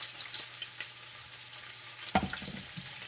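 Olive oil sizzles faintly in a frying pan with a soft continuous hiss, then a brief louder clatter near the end as the pan is stirred or something is added, without any talk.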